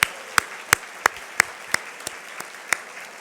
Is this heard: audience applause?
yes